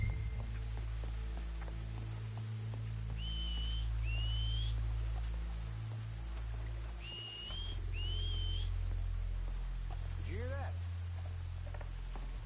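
Short two-note whistles repeated twice in the Red Dead Redemption video game, sounding over a steady low ambient drone and a soft outdoor rain-like hiss, with a further quick sliding whistle near the end.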